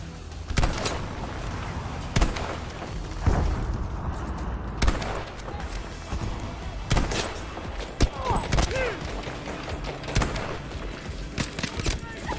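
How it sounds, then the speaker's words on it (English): An STG assault rifle fires in Battlefield 5 in repeated sharp bursts and single cracks scattered among other battle noise, with a voice talking over parts of the action. "STG, that's a real good assault rifle"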